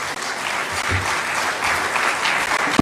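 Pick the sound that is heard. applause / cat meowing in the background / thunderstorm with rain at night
applause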